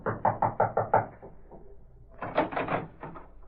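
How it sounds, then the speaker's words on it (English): Knuckles rap on a wooden door in a radio drama effect: a quick run of five or six sharp knocks, a brief pause, then another cluster of firmer knocks, close and alone. "he approached and rapped on the door"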